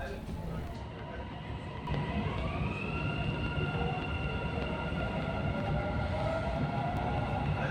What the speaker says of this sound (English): This is me while on the metro, just chilling.